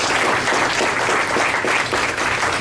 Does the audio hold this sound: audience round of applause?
yes